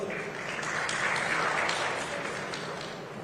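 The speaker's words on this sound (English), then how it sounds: "A big round of applause here for our panelists." An audience at a climate summit session gives a big round of applause welcoming the panelists, a dense, steady wash of clapping that holds level and starts to taper near the end.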